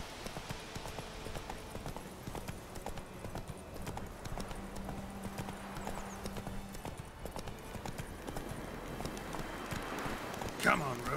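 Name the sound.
Geralt's horse Roach galloping, from The Witcher 3 video game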